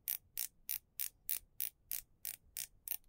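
Ceramic bezel on a SeaQ homage dive watch clicking as it is turned, about ten crisp, evenly spaced ratchet clicks, close and quiet, with nothing else audible.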